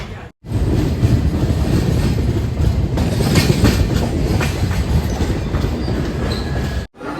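The Mandovi Express runs along the Konkan Railway with a loud, steady close rumble and rhythmic clickety-clack of wheels over rail joints, with no voices over it.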